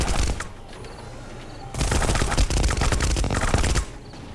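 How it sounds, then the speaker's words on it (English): Video game NPCs trade gunfire in Stars End, a fast clatter of repeated shots that swells into a denser, louder volley for a couple of seconds before easing off. "They'll still shoot the other NPCs."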